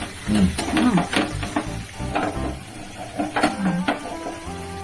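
Hot water goes into a pot of frying desi chicken curry, and the pan sizzles and bubbles loudly close by. Scraping stirring strokes run throughout.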